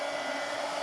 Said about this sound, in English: now I got to hit it with the heat gun before I turn the page